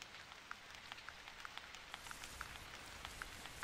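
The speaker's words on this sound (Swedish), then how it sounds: "Så det börjar regna nu också." Rain in the hunting video game The Hunter Primal, a steady quiet patter with small scattered drops ticking through it, heard alone with no talk.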